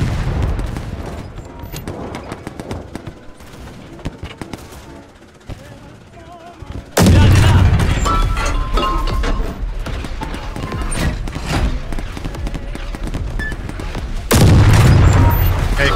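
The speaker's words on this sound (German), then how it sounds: "Eingehendes Sperrfeuer." An incoming artillery barrage in the WWI video game Over The Top: WWI opens with quieter crackling gunfire, then heavy booming impacts and rumbling explosions land loud and close in two strong waves.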